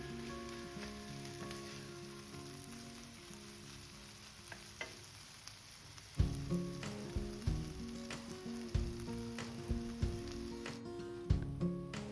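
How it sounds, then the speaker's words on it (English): Ginger garlic paste with green chili sizzles in a pan for butter chicken, a constant close frying hiss joined halfway by a run of rhythmic spoon knocks and scrapes against the pan while it is mixed. "ginger garlic paste. Mix it well. Saute for 2 minutes."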